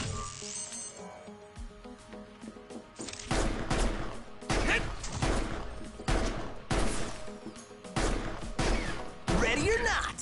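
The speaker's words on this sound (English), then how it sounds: "The handgun will never run ammo, so fire away." Handgun shots fired in a video game, a series of sharp separate cracks in an irregular rhythm over a steady game soundtrack, fairly loud and close.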